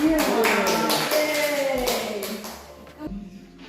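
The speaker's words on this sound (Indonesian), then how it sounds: "Tepuk tangan untuk kelompok audiovisual" A classroom audience clapping together in a dense patter that fades out, with voices and a tonal hum underneath.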